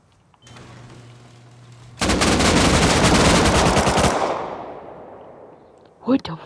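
Rapid automatic AK rifle fire in a video game, a loud sustained burst of about two seconds that fades out, followed by a brief voice.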